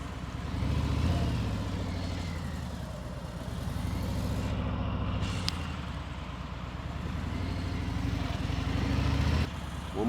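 A truck slowing at low speed for a U-turn, its diesel engine rumbling and shifting pitch as it downshifts, with a brief air hiss and brake sounds, heard close from the cab.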